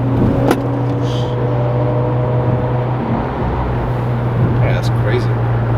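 A rebuilt Mazda RX-8 on its first test run hums steadily from inside the car with a low, constant engine drone, while the occupants talk and exclaim over it.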